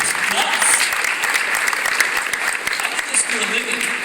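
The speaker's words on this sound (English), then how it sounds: "Give him another round of applause." An audience at a high school gives a student steady, dense applause, a sustained wash of clapping with scattered cheers throughout.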